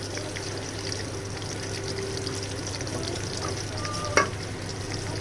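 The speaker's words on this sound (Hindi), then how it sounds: "ऑयल डाल के हम अच्छे से इसे भूनेंगे।" Chicken pieces fry and sizzle in half a cup of oil for a chicken karahi, a continuous close crackle with occasional stirring and a brief scrape of a utensil near the end.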